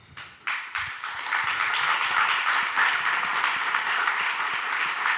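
An audience at the Web2day 2019 tech conference applauds its four speakers: a few scattered claps at first, then swelling into full, sustained applause from the crowd that holds steady to the end.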